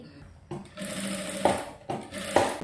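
Sewing machine stitching blouse lining around the neckline, a close whirring run that surges in two or three short pulses with brief slowdowns between.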